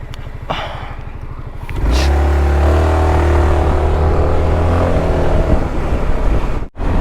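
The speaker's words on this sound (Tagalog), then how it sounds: "Gamit natin ay ADV 350, ang ating bagong motor na second hand." Second-hand Honda ADV 350 scooter on a long ride, engine droning steadily and loud after a short idle, with wind rush and road noise throughout.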